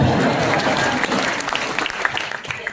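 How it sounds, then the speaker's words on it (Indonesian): Congregation applause fills a church thanksgiving service celebrating a fifteenth anniversary, a dense steady wash of many hands that thins out toward the end with a few louder scattered claps. "ini sudah boleh tepuk tangan dulu"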